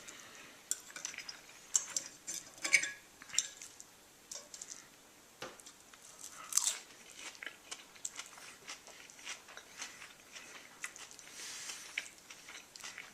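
Crisp fries cooked in a seasoned cast iron pan being bitten and chewed up close, irregular soft crunches and mouth sounds with occasional light clinks of cutlery, no talking.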